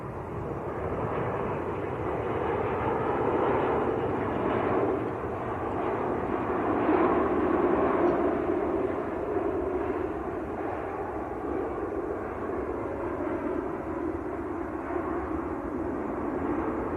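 An Etihad airliner in blue livery moves at Manchester Airport, its broad, steady engine roar holding at a moderate level for the whole stretch, with no voices over it.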